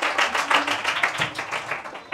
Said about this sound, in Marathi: जरा टाळ्या वाजल्या पाहिजे.